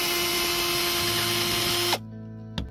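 A power drill unscrews screws from window shade trim inside a Chevy Express conversion van, whining steadily and loudly before spinning down to a stop, followed by a brief second burst.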